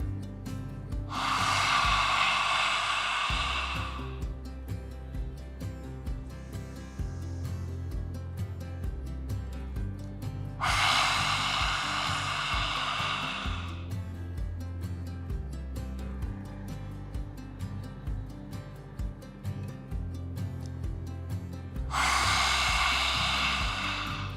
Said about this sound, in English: Inhale through the nose. Stick the tongue out and exhale.